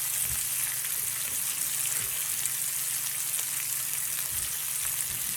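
Sausage with a medley of yellow, green, red and orange peppers and onions sautés in a pot, giving a steady, close sizzle and crackle that runs unbroken with no talk over it.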